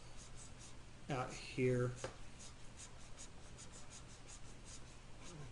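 A pen or marker sketching a converging lens diagram on a board or paper, a short scratchy stroke sequence of about one second, close, amid quiet room tone and a voice speaking.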